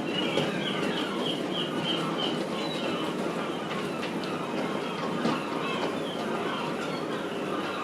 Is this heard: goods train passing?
yes